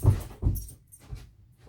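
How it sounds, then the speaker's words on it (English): Puppy whimpering and fussing indoors, a few short, uneven yelps and soft whines spaced apart, close and moderately loud, with faint jangling in the background. "Crazy puppy."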